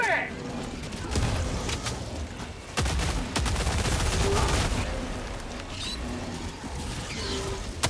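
Grenade blast and bursts of gunfire in the video game Helldivers, loud and close, with sharp crackling volleys and a heavy impact running throughout, mixed with game voices.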